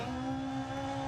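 Seat Ibiza Kit Car rally engine in Dirt Rally 2.0 holds a steady, loud, buzzy high-rev drone for about a second, alone with no talk.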